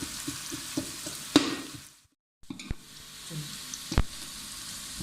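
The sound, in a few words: frying onions until light brown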